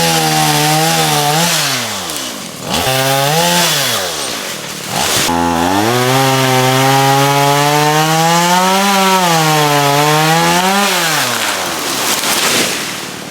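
A chainsaw with a dull blade cutting trees, loud and close, its engine revving up and down in long whining surges with brief dips between cuts.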